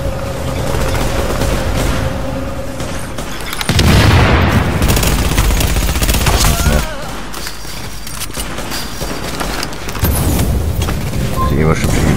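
Heavy gunfire from The Division, set in Manhattan, with dense bursts of automatic fire and booming shots running throughout, loud and close, under a voice talking in German.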